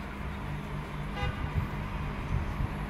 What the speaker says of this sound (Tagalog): Daming sasakyan sa baba.